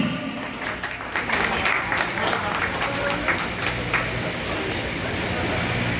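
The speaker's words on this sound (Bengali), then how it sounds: "মামুন ভাইয়ের জন্য একটা করে তালি" An audience at a party opening program bursts into dense, sustained clapping that fills the room, with voices faintly underneath.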